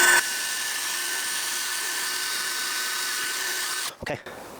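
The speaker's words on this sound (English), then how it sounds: "So I'm simply just gonna drill here and see when I hit water." A power drill bores a hole through the ice of an outdoor backyard skating rink. It gives off a steady high whine that holds for about four seconds, then stutters and cuts out.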